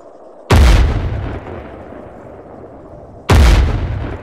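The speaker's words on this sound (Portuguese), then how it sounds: "eu tô escutando uns tiros muito" Two loud gunshots from the military video game Arma III, each a sharp sudden blast with a rolling echoing tail, spaced about three seconds apart, with no talk over them.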